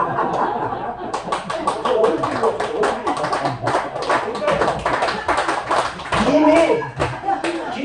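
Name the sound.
audience clapping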